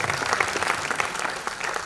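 Audience clapping for a lyricist at a singer's birthday celebration and album launch, a short dense burst of crowd applause filling the room.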